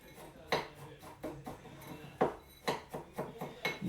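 A spoon scrapes and knocks against a mixing bowl while cheesecake base ingredients are stirred together, giving a series of close, clinking strikes that come faster toward the end, with no talk.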